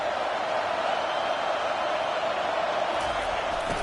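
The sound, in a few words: stadium crowd noise in College Football 25 video game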